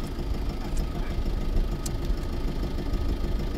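A loaded oyster boat's engine running as it comes back from an oyster farm, giving a steady low rumble with faint mechanical knocking that holds evenly throughout.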